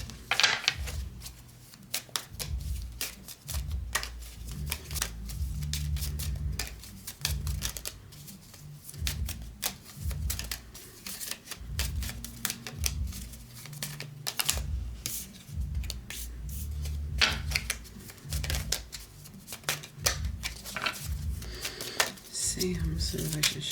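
Tarot cards being shuffled, handled and laid out in quick dry taps and slaps, a steady stream of light papery clicks close by under a voice talking throughout.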